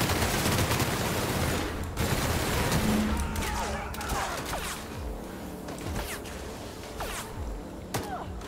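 A rapid burst of gunfire from The Outer Worlds video game, with dense shots and crashing impacts that taper into scattered blasts and thuds over a game soundtrack.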